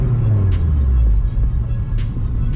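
A Honda FG2 car with a K24 engine and newly installed header revving, a loud, close, deep rumbling drone that holds steady with slight swells throughout.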